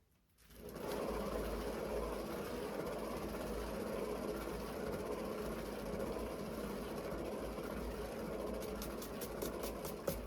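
A spinner turning an acrylic pour painting on a rotating base gives a steady, continuous mechanical whir, loud and even, starting after a brief quiet moment and running without a break to the end, with a few light clicks near the close.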